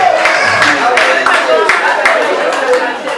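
An audience at a ceremony in Adjamé town hall applauds the guests of honour. Scattered, loud claps mix with cheering and crowd voices, and a speaker talks over the noise.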